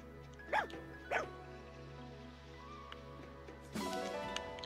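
A dog in Fire Emblem Engage lets out two short, high yips about half a second apart, fairly clear over a quiet hum, then a louder burst of other game sound follows.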